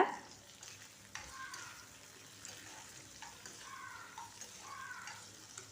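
Tomato, dried red chillies or green chillies frying in a pan for a ragi breakfast dish, a steady close sizzle with intermittent scraping strokes of a spoon as the mixture is stirred.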